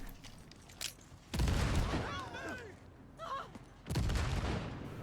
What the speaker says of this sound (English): let's start throwing grenades